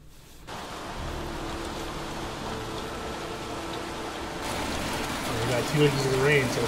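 Steady rain from the video game Heavy Rain hisses as a continuous broadband wash, with low tonal game music underneath that grows slightly louder toward the end.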